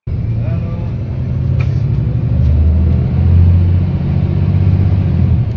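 A low, muffled exhaust rumble from a bus engine, a steady deep drone with a slight rise like a revving surge midway, continuous and fairly loud throughout.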